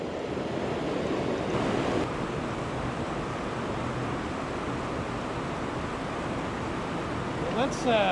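Whitewater on Vermont's White River rushes in a continuous, even roar close by, with no breaks and a faint higher ring near the end.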